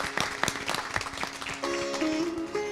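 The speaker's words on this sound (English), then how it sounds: "Let's give both of our boys a big round of applause." Applause in a temple service congregation for two boys, scattered individual claps building into steadier clapping, with a sustained musical tone entering partway.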